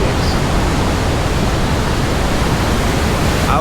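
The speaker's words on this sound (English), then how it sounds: "crazy huge waves" Huge ocean waves crash at Keawaʻula Bay on Oʻahu, producing a loud, continuous roar of surf that washes over everything with no breaks.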